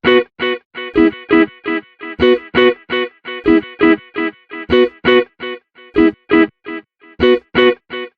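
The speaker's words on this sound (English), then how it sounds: "We have the tube tape right here, which is modeled after a modern sounding tape echo." A plugin modeled on a modern tape echo repeats short musical notes in rhythmic bursts, each phrase followed by fading delayed copies, loud and clean with no voices.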